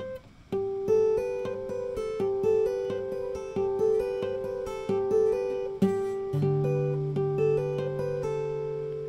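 A guitar phrase of repeated plucked notes, a bright ringing G harmonic followed by a pull-off to a lower sustained note near the end, with quick note changes, played alone.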